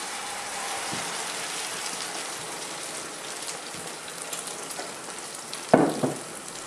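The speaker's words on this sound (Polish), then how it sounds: "Tak połączone składniki wylewamy na rozgrzany olej. Chwilę smażymy, nie mieszając." Spanish tortilla mixture of eggs and potatoes frying undisturbed in hot oil in a pan, a steady close crackling sizzle throughout with a few sharper pops near the end.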